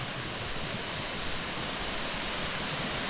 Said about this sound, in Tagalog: kita nyo guys, mao na ni siyang Twin Falls